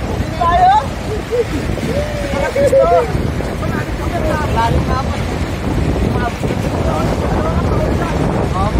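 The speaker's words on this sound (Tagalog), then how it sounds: "Ang lakas ng alon, grabe." Strong waves crash and surge at the sea near Maragondon, with heavy wind buffeting the microphone, while several people shout and talk excitedly over the roar throughout.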